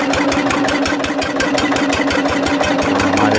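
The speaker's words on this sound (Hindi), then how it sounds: "मैंने इंजन फिट किया है पूरा, एक ही हैंडल में स्टार्ट हुआ है। इसकी आवाज़ भी आप देख सकते हैं, अच्छा चल रहा है।" An old Lister Field Marshal 10HP engine runs after repair, having started on one turn of the crank handle. It gives a loud, steady, rapid chugging beat at idle, with no voices over it.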